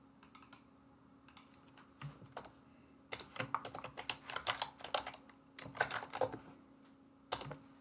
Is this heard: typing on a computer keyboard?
yes